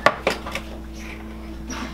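Cutlery being picked out while a spoon or fork is fetched in a kitchen, with two or three quick close metallic clinks at the start fading into quiet room tone.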